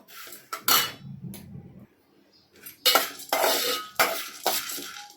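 Roasted gram dal being dry-roasted in a pan for quick poha chakli, heard as bursts of rattling, scraping clinks of a spoon against the metal pan, stopping and starting with brief quiet gaps between strokes.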